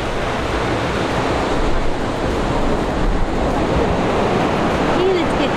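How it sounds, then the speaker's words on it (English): Ocean surf at a beach in Mexico, a steady, loud roar of breaking waves filling the whole stretch, with some wind buffeting the microphone. "We're at the beach."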